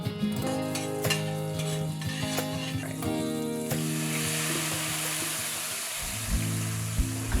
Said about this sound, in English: Heat the plant-based butter in a hot pan.